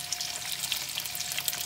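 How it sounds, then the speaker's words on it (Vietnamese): Sweet potatoes fry in a small, thin pan with a steady, close crackling sizzle that stays even throughout and has no talk over it. "Xếp chiên mau vàng, cái chảo này nó nhỏ chiên mau lắm, chứ nó mỏng nữa chiên nó nhanh hơn mấy cái chảo dày."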